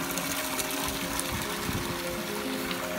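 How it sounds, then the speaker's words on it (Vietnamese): Clean water streams steadily from a pipe in a rainy forest, a close, constant gushing splash with no pauses and no talk. "người dân đã bắt một cái ống nước dẫn nước sạch xuống, rất tiện để rửa mặt, rửa tay"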